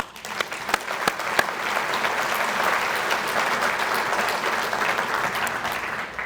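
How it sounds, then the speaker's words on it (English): A room of attendees at a community organization's annual meeting gives a round of applause: a few sharp individual claps at first, quickly swelling into steady, moderately distant clapping that holds to the end. "give yourselves a round of applause"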